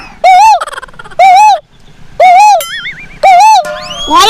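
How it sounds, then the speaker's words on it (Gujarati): Koel calling loudly and close during a jungle safari, four strong rising-and-falling whistled notes in a steady series with short gaps between them. "કોયલ બોલે. પણ કોયલ કેવું મીઠું બોલે."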